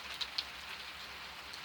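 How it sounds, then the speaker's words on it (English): Peaceful rain patters and drips steadily from a front porch on a quiet neighborhood day, a soft, even hiss broken by a couple of slightly sharper drops. "Drip, drip, dripping. It's peaceful rain."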